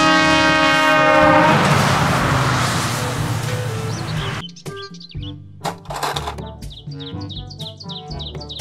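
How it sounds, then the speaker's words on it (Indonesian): A toy-like Thomas the Tank Engine train sound: a loud horn-like chord and chugging noise, then a cheerful melodic jingle with chirpy tones. "Kereta Thomas"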